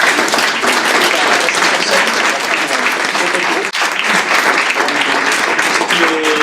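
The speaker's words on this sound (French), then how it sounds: "Et vous pouvez les applaudir, ça les aidera." Sustained applause from an audience at a prize award ceremony, dense steady clapping filling the room for the whole stretch, with a brief dip near the middle.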